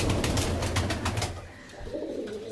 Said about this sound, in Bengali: এই আমার বাড়ির একটা ধাড়ি বাজরে পায়রা